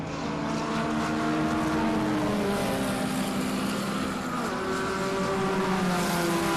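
Space-frame race car driving a circuit during a regional extreme racing festival, engine tones rising and shifting as it climbs over a hill toward a turn, loud and sustained without talk.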